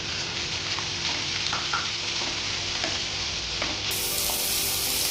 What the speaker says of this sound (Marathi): आपण इथे टोमॅटो टाकून परतून घेतलंय।